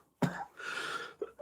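A man coughs up close, one harsh burst trailing into a rasping exhale, then a second shorter cough a moment later in a quiet room.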